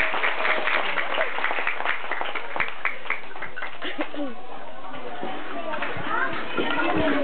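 Applause for the school principal at an elementary school feeding program launch, scattered clapping mixed with lively children's chatter and voices throughout, busy and crowded rather than a clean ovation.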